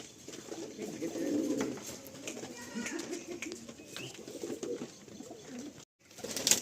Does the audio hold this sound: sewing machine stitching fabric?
no